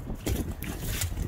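Gusty wind buffets a frozen pond during ice fishing beside an insulated ice hut on Beavertail Pond, Montana, roaring steadily and close with broadband rushing and low rumble.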